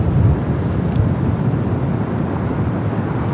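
A Lufthansa Airbus A380 taking off at LAX makes a steady, heavy engine roar, broadband and rumbling at some distance, continuous with no breaks.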